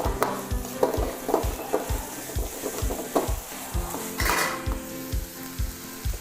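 Onions stir-fried in a pan for Chinese-style basil minced pork, a loud continuous sizzle broken by a steady rhythm of utensil scrapes and clacks against the pan, close up with no talking.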